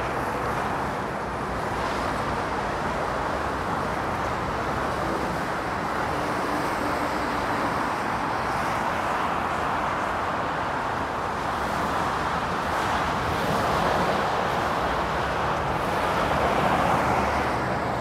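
Dense motorway traffic near Epping makes a continuous loud roar and tyre rumble, steady and unbroken for the whole stretch with no standout vehicles.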